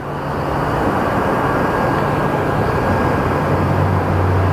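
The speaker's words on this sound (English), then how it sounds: "the plane we are watching get pushed out of Southwest 3719 going to Denver" A Southwest airliner is pushed back at Phoenix Sky Harbor Airport before a flight to Denver, and a loud, even jet whine and hum hold steady the whole time with no talking.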